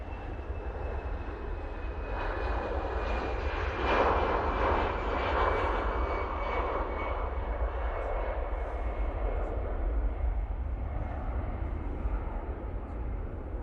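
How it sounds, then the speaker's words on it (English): Aer Lingus Airbus A320ceo jet engines departing Manchester Airport, a continuous distant roar that swells slightly and then stays steady, with a faint rising whine threaded through it. "Aer Lingus now returning back to Dublin using their A320 CEO."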